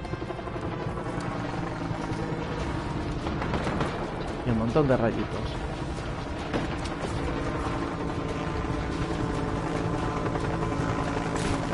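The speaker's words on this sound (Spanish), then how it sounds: "Por ahí hay un helicóptero." Helicopter in the video game Just Cause 3 droning steadily with a chopping rotor hum under someone talking in Spanish, joined briefly by a burst of gunfire or explosions.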